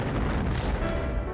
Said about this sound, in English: eventually forced to flee Beaufrenne to the sound of cannon fire